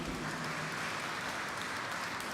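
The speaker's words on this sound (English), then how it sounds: "Can we have a round of applause for Raghav especially?" An audience at a moot court closing ceremony applauds, a dense, even wash of many hands clapping that holds steady throughout, heard from a moderate distance with no voices over it.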